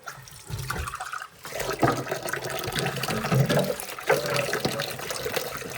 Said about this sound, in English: So I'm going to go for washing dishes on my set in 10 minutes